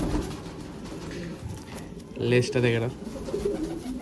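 A female pigeon coos in short, soft bursts at a home loft, a little louder near the middle, while a person talks over it throughout.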